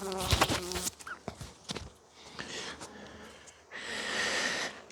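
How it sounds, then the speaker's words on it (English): A bee buzzing close around a beekeeper's head while working a hive, with a steady, fairly loud drone swelling near the end after scattered handling noises and breaths. "Well, I got a bee in my bonnet."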